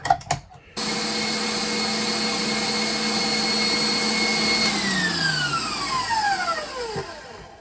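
An electric mixer whips meringue with lemon and lime zest for coconut key lime macaroons, a steady loud motor whine that runs for several seconds after a brief start and then winds down as it is switched off.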